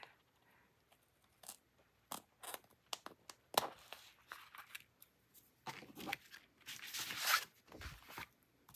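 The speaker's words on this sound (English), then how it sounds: "Now I'm going to just turn it over, and I'm going to cut off this overhang." Scissors snip through the overhanging edge of vellum paper on a scrapbook layout, giving a series of short, close, quiet crisp cuts at an irregular pace with small rustles between them and no talking.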